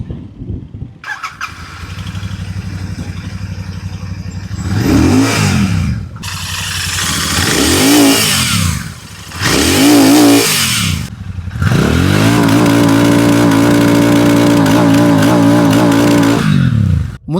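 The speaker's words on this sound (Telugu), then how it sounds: "ఫస్ట్ మనం ఈ పవర్ఫుల్ మెషిన్ యొక్క ఎగ్జాస్ట్ నోట్ ఇంజన్ సౌండ్ విందాం" A Royal Enfield Super Meteor 650 motorcycle starts and idles, then its exhaust barks through several sharp throttle blips with falling revs between, before settling into a long sustained high rev close by, with no talk.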